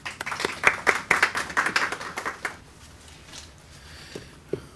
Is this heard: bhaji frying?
no